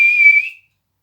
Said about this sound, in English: He gave a loud whistle,